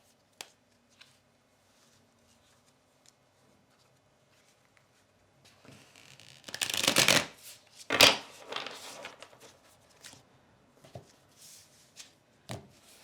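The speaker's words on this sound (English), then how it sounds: "Let's give them one more good shuffle." A burst of tarot card shuffling, a loud riffle followed by a second sharp ruffle and a few scattered taps, close by in an otherwise quiet room.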